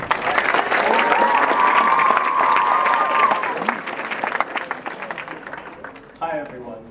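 Audience at a 2014 OJCL convention applauding steadily to welcome a parliamentarian candidate, a dense, sustained wash of clapping and some cheering that thins and fades out, with a brief burst of talk near the end.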